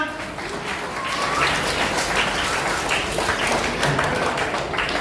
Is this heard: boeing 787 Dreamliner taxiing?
no